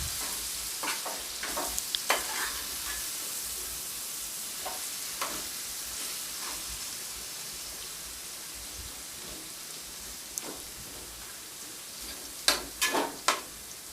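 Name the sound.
marinated chicken added to pan and stirred while frying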